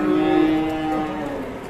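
A cow moos with a long, loud, drawn-out low call that holds steady and fades slightly at the end, close by.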